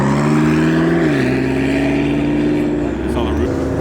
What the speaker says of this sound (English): Oh, there goes the CT5V.